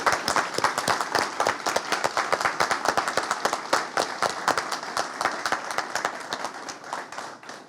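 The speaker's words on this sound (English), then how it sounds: "We want to give you all a round of applause." An audience at a school report card news conference applauds warmly, with dense, close hand clapping that holds steady for several seconds and then begins to thin out.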